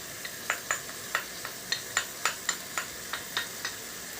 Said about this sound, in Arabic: نبدا بقى نحط الثوم